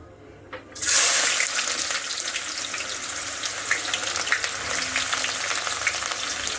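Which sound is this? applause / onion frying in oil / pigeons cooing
onion frying in oil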